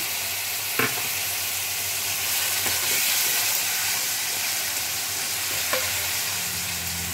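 Ginger, garlic and green chili paste fries with onion in hot oil for a flat bean and potato curry, making a steady, dense sizzle with a few scraping stirs, close and without talk.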